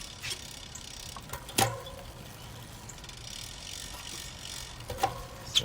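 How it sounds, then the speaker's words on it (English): A few sparse ratcheting clicks sound from a bicycle's rear cassette as gears are shifted during cleaning, quiet and close, with a sharper click near the middle and more toward the end. "I'm gonna take this opportunity to shift gears."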